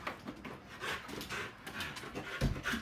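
A pit bull pants in quick, breathy bursts close to the microphone, with a faint whimper near the end.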